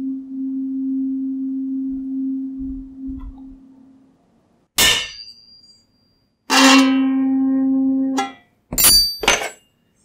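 Tuning fork still ringing as a steady pure tone that slowly fades out, followed by sharp metallic strikes and a second bright ringing tone that cuts off abruptly, then clinking knocks.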